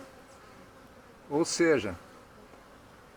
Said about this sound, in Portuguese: essa imagem maravilhosa aqui das abelhas entrando com néctar e pólen num movimento extraordinário